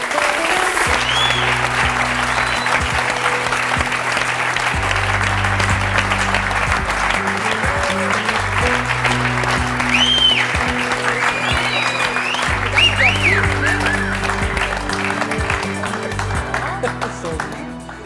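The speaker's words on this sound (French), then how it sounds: "je vous demande d'accueillir et d'applaudir Sandrine et Françoise" A studio audience on a French talk show claps for two guests being welcomed, a loud, sustained wave of applause that carries from start to end over a looping musical bed, with some voices mixed in.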